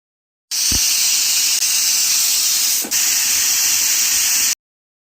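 A pressure cooker holding soya chunks on a medium flame lets out a loud, steady hiss of escaping steam for about four seconds, briefly dipping once midway before cutting off sharply.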